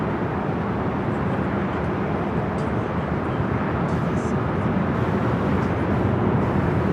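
A converted Boeing 767 airliner arriving at LAX gives a steady, broad engine roar that holds constant throughout, loud and continuous with no pauses.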